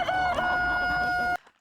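Chickens kept on a farm and fed hemp, one giving a single drawn-out, steady call close by for over a second before it cuts off abruptly, with no talking.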